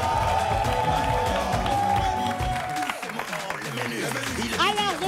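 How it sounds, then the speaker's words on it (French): Studio audience on a French television show cheering and applauding, with a dense, steady wash of clapping and crowd noise alongside busy music and chatter. "Des acclamations, s'il vous plaît."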